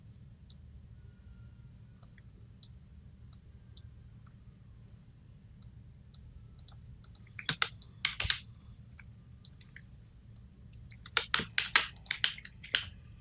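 Computer keyboard key presses during embroidery design software work: sparse single clicks at first, then quicker clusters of sharp taps, close and crisp over a low steady hum, with no voices.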